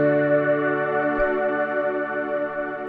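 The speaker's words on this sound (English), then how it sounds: "This one is a Los Vangelis synth pad and it sounds like this." A Los Vangelis synth pad triggered from a guitar through a Fishman TriplePlay Connect holds one steady, sustained tone throughout, alone and moderately soft.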